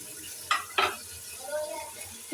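Meat browning in a pot with garlic and ginger for chicken Sindhi biryani gives two sharp stirring scrapes over a low, steady sizzle, close by and with no talking.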